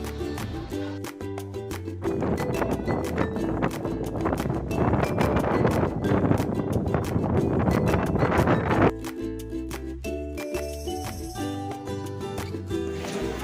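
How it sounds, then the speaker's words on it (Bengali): Strong wind on top of Joychandi hill during a storm with heavy rain, buffeting the microphone in loud, rough gusts that swell in the middle and ease toward the end. "মারাত্মক হাওয়া চলছে"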